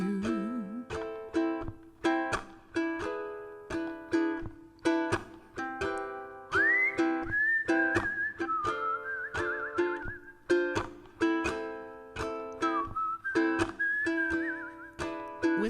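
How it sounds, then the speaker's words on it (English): Someone whistles a tune over a strummed ukulele, the clear melodic whistle carrying a jazzy line with slides and a trill above rhythmic chords. "Whistle seemed appropriate."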